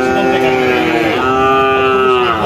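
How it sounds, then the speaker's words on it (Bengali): A Holstein Friesian heifer at a cattle market moos loudly and close, one long drawn-out call that dips and rises again across the clip. "এটাও একটা হলস্টাইন ফ্রিজিয়ান গরু, এখনো দাঁত হয় নাই"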